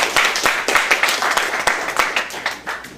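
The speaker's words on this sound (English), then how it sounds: "Give Ed Rosenthal a big round of applause" Applause breaks out for guest Ed Rosenthal at an evening gathering, a room of people clapping steadily with sharp individual claps standing out over the dense patter throughout.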